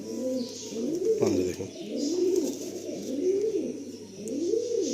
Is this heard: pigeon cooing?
yes